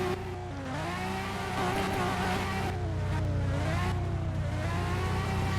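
Simulated car engine drifting with heavy throttle in Untitled Drift Game, a steady loud droning rev that wavers in pitch as the throttle is worked, continuous throughout with no talk.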